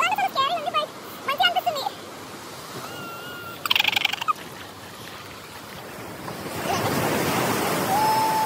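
Ocean waves break on a beach, a steady broad rush of surf that swells louder toward the end after a few brief voices and bird-like calls early on.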